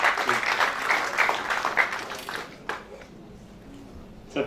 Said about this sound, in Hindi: मंच पर जोरदार ताली के बीच।